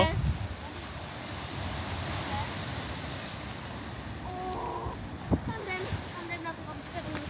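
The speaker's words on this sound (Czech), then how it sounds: "Tyjo, to jsou vlny." Waves of a rough, stormy sea off Hvar during a thunderstorm, a steady broadband roar of surf mixed with heavy wind buffeting the microphone, with a few brief louder splashes and faint voices in the background.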